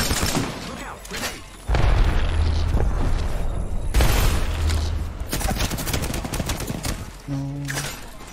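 Grenade explosions and bursts of gunfire in a shooter video game, with heavy booms marking the blasts and rattling shots between them, plus short electronic tones near the end.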